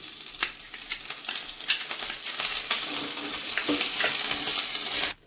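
Onion and garlic paste hits hot oil in a pan, a bright sizzle swelling and crackling with scattered spatters and stirring, staying loud and close before cutting off abruptly at the end.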